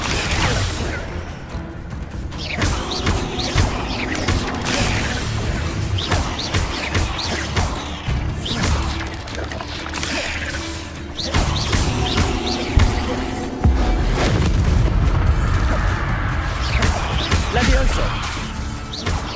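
Hogwarts Legacy combat on PS5 with the Stupefy spell cast amid other spells: loud, busy bursts of whooshes, crashes and impacts over a constant game-sound bed.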